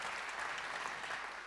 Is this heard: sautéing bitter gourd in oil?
no